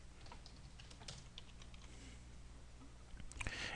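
Typing on a computer keyboard, faint rapid key clicks under a low steady background hum, with a slightly louder click near the end.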